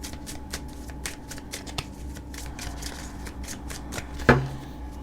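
A tarot deck is shuffled by hand in a rapid, even run of riffling card flicks close by, ending with one sharp tap as the deck is squared.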